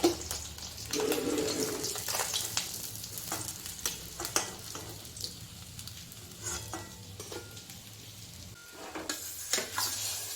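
Bata fish fry in oil, a quiet continuous sizzle broken by intermittent spatula scrapes and a few sharp crackles, close but low in level, without speech.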